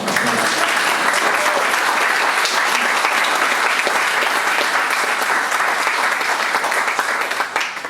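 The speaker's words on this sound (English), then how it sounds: "Give him a round of applause." An audience at a book launch in Manchester applauding steadily for several seconds, a dense, even wash of many hands clapping that fades slightly at the end.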